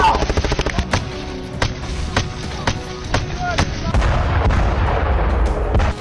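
Gunfire in battle fighting between Russian and Ukrainian forces near Kupiansk, with sharp rapid bursts at the start followed by repeated heavy shots and booms over a rumbling background.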